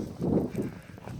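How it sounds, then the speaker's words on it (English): A horse's hooves clop on the ground at a farm where hay is being fed, giving a few soft, close thuds with no talking over them. "There's the horse."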